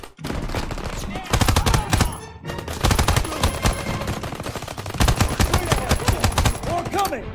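Gunfire in Call of Duty WWII, dense bursts of rapid machine-gun fire and single shots crackling loudly in close succession, with brief pauses between volleys and intense battlefield clatter.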